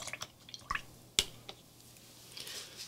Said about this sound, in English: So, washing out my brush.